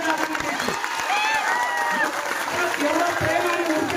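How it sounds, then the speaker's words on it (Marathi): Crowd at a Maratha community political rally applauding steadily to welcome a leader's arrival, loud and sustained clapping throughout with cheering mixed in. "पुढचा 1 मिनिट सतत टाळ्या वाजवत राहायचे"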